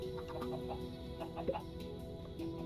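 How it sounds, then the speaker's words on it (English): A caged chicken in modded Minecraft gives faint, scattered clucks over a steady low background hum, quiet and a little distant. "I still have this caged chicken I picked up"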